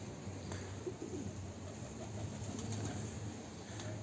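Pigeons cooing in a coop, soft low repeated coos close by over a quiet hiss of background noise, with no one talking.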